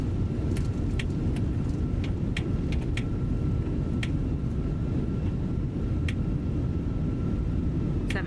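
Airbus A320 reverse thrust in a flight simulator, a steady loud low roar held throughout after landing, with scattered brief clicks and a faint tone over the top, no talking.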